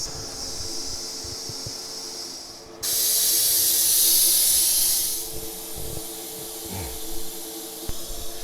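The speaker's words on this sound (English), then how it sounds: "Just let it stop steaming naturally, then we'll turn it open and let the rest of the steam out" Steam hisses loudly out of a pressure canner holding beef bone broth. A quieter background hiss gives way to a sharp, louder burst of venting that lasts about two seconds, then it fades back to a steady low hiss.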